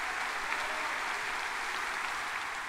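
A concert audience gives long applause to a classical singer, a dense, continuous wash of many hands clapping at an even level from start to finish, with no talking.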